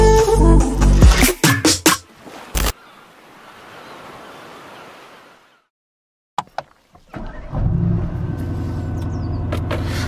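A Mercedes-AMG GT R, in comfort mode with its exhaust valves closed, is heard from inside the cabin: scattered knocks and a hissing lull give way to a steady, droning engine hum near the end.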